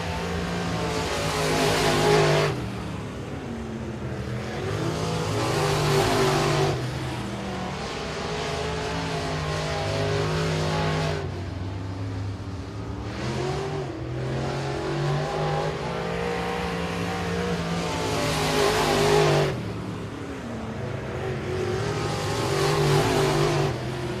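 Race cars lap Boothill Speedway during time trials, engines rising and falling in repeated loud waves as they pass close by, with rhythmic surges every few seconds and no talking over them.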